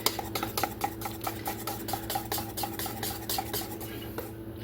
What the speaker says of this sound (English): Stir it up good to get that powdered sugar incorporated.